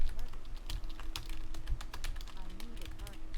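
Quiet, close fingers tapping on a computer keyboard in an ASMR style, a steady run of soft, irregular clicks with faint background hum and no speech.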